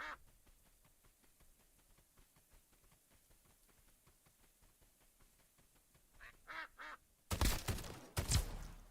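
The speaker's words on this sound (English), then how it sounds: "the ducks have different sound cues. So if they've seen you and they're coming for you, it's 2 quacks." Ducks in the survival game Duckov quack in a short burst of a few calls near the end, after a long stretch of faint ticking background noise.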